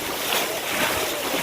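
Strong ocean waves surging on a Hawaii shore, a loud, broad roar of churning surf mixed with wind buffeting the microphone, continuous and close.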